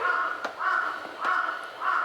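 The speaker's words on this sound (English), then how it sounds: "That crow you're hearing, I'm learning about this guy." A crow caws loudly from close by near a balcony, three harsh drawn-out calls in an even rhythm with a few short sharp clicks between them, and no voices over it.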